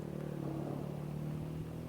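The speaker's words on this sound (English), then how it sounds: "the odd motorbike with soldiers" Motorbike carrying soldiers moving through the ruined, war-damaged streets of Aleppo, a faint mid-pitched engine drone heard from a distance, steady with a slight change near the end.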